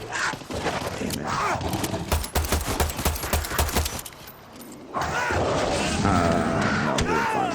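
Rapid automatic gunfire in the shooter video game Far Cry 6, a dense burst of close, loud shots in the middle, surrounded by other game noise and someone talking.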